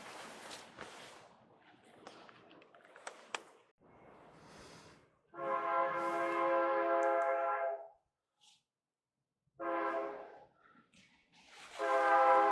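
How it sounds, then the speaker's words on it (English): A freight train passing near a home garage, with long horn blasts of layered tones sounding twice, the second cutting off near the end, plus scattered rattles and footsteps nearby. "As soon as I hit record, a fucking train comes by."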